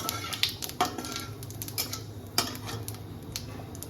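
A utensil stirs cumin tempering in oil in a pan, giving several soft metallic clinks and scrapes at irregular intervals over a faint low background, no voices.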